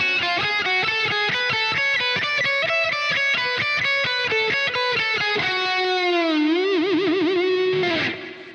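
Distorted electric guitar slowly picks the triplet sequence from a solo, a steady run of separate notes that ends in a long sustained note with wide vibrato before fading.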